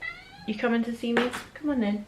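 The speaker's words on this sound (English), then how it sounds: "I don't know if you can hear my cat in the background." A pet cat meows several times in drawn-out, rising and falling cries, close by, alternating with someone speaking to it.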